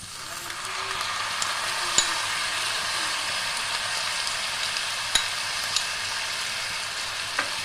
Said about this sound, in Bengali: বেটে রাখা মশলাটা দিয়ে ভালো করে কষিয়ে নেব।